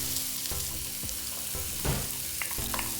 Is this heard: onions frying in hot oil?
yes